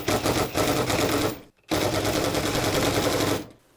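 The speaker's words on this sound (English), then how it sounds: "Let me try tightening it with the impact gun" An impact gun tightens a bolt on a LiFePO4 battery build, giving two loud, close bursts of rapid hammering rattle, the first about one and a half seconds long and the second nearly two seconds long, separated by a brief pause.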